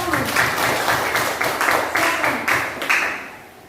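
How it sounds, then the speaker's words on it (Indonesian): A class applauds a student group in a rhythmic pattern, with bursts of clapping repeating roughly every half second and fading slightly between beats. "Tepuk tangan untuk kelompok 1."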